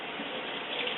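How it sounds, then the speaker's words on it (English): Tap water runs steadily into a sink as fresh strawberries are rinsed under it, a continuous, fairly close hiss of flowing water with no voices. "take the green off, rinse it"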